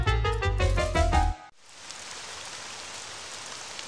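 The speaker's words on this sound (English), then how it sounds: "Look, it's raining." Steady rain falling, a soft, even hiss that continues for a few seconds after a short burst of tonal music cuts off.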